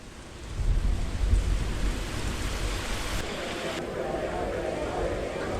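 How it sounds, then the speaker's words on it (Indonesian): Rain pours steadily with a deep rumble of thunder rolling in early, then the wash of rain carries on evenly. "Soalnya aku kejebak hujan nih."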